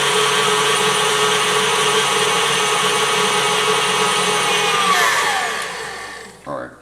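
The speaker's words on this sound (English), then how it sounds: "if you don't have a stand mixer, you can do this with a blender" A blender standing in for a stand mixer creams banana bread ingredients on high, giving a loud, steady motor whine that holds for about five seconds, then shifts in pitch and winds down near the end.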